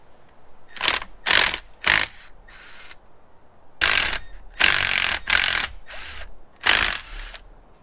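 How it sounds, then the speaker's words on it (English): A T30 driver on a ratchet works loose the coil pack bolts on a jet ski engine, giving bursts of rapid close ratchet clicking with short pauses between strokes. "Removing our coil packs is just going to be a T30."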